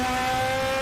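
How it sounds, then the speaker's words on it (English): A high-revving race car engine in RaceRoom Racing Experience holds a steady, loud, sustained whine with strong harmonics, continuous throughout with no gear change or talk. "it's another high revving engine"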